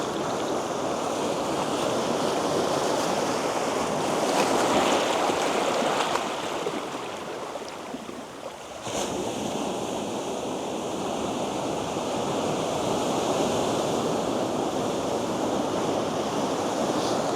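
Ocean waves wash in steadily at Hellfire Bay, a continuous broadband surf roar with a brief lull mid-way before the swell builds again, mixed with some wind; no voices.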